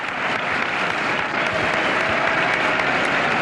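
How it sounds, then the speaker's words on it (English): A dense, steady wall of applause from a large crowd fills the space without a break, loud and close, with no distinct voices standing out, greeting a guest arriving on a podcast stage. "The crowd is going nuts, Dave."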